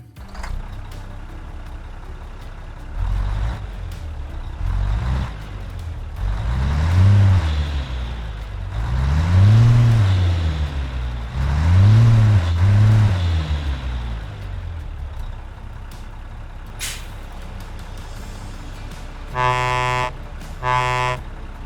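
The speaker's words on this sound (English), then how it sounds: "let's first of all listen to the engine and fire the horns" A Mack R truck hauling a Fruehauf fuel tanker in American Truck Simulator revs its engine in three rising and falling swells, then sounds a series of short, loud horn blasts near the end.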